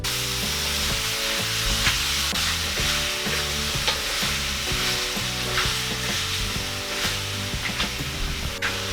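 Chicken feet stirred and sizzling in a pan for adobo, a strong continuous sizzle broken by repeated scraping stirs, close up with no talking.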